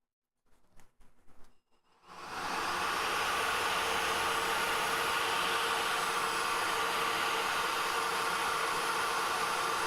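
A CPAP fan wired to a Klipper-controlled 3D printer blows air through a long hose, kicking on after two seconds of faint handling noise into a steady, loud broadband whoosh that holds to the end.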